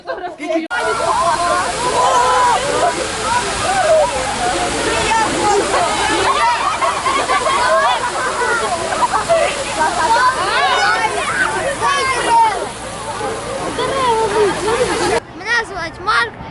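Water gushes loudly and steadily from a fire engine's hose, a continuous rushing splash that lasts several seconds before it stops abruptly. Children's voices chatter beneath it.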